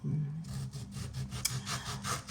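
A knife slices through firm tomatoes for a crab-stick holiday salad, giving a steady series of soft rhythmic cutting strokes, close and moderately loud, with no talking.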